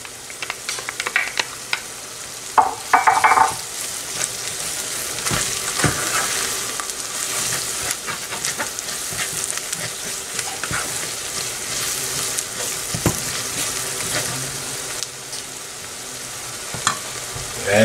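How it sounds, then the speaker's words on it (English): Tomato paste and anchovies frying in a pot for jollof red rice, a continuous close sizzle with scattered spoon scrapes and stirring clicks over about eighteen seconds, no talk. "So we're gonna let this tomato paste cook for a few minutes. Right now we can go in with the anchovies."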